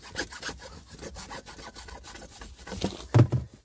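A hand saw cuts through material during crawl space foundation waterproofing work, a rough rasping back-and-forth stroke with a rising thump near the end, close by with no talk.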